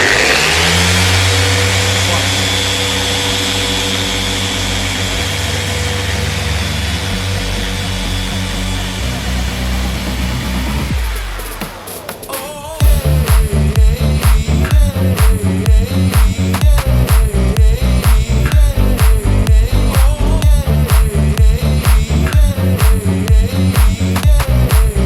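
A Krauss Shinemaster S08 dual action orbital polisher, set to speed 5, starts up and runs steadily with a loud, even mechanical whir and buzzing drone that continues at close range for the rest of the clip.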